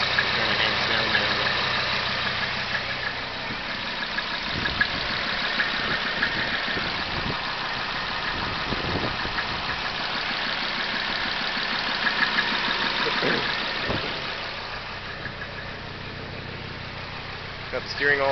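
A Mazda B2600i turbo diesel pickup engine idles on its first run after a head gasket replacement, giving a continuous rattly, knocking chug heard close and fairly loud, with faint voices underneath.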